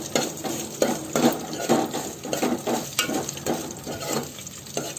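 Sesame seeds and turmeric toast in a hot pan, a crackling sizzle broken by repeated spoon scrapes and stirs in an uneven rhythm, close and moderately quiet.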